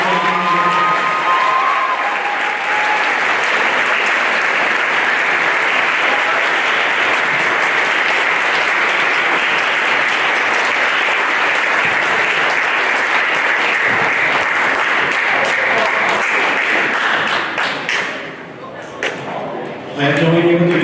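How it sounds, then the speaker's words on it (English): A school audience applauds the award winners at a high school year-end music concert, a dense, sustained round of clapping that holds steady for about eighteen seconds and then thins out near the end. "a big round of applause for the award winners."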